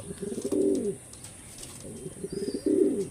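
Pigeons coo nearby in two soft, throaty bursts separated by a quiet pause, with faint background noise.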